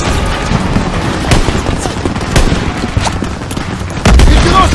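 Suppressive gunfire in the Call of Duty WW2 Rhine battle: loud, continuous overlapping rifle and machine-gun bursts with sharp cracks and booming low thuds, rising into a heavier blast near the end.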